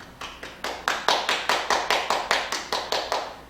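Rhythmic clapping of hands in a steady, evenly spaced beat, about a dozen sharp claps close by with no voices over them.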